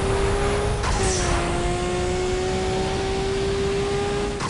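A Toyota Supra engine roars loud and steady in a racing video game, a continuous drone whose pitch shifts slightly as the car holds speed, with no talking.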